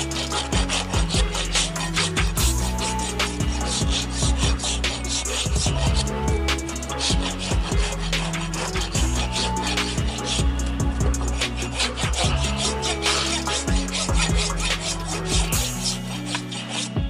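A rasp files steadily across a horse's hoof during shoeing, a loud, close, continuous rhythmic scraping of repeated strokes that runs without pause.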